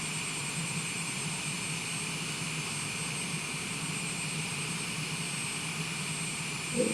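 Steady whine and rumble of a light aircraft engine on the runway after landing, rolling toward a stop; a constant, close drone with a faint bump near the end and no talking.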